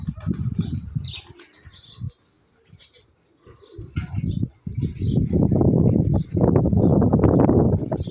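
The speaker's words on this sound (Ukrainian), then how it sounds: "Така у нас птичка літає." Pigeon cooing close by in repeated low bursts, with some chirps, rustling and brief wing flaps in between.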